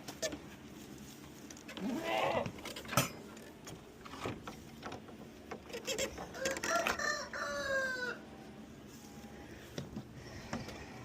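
Several goats bleat nearby amid barnyard rustling, with a rooster crowing partway through and other farm animals calling in the background.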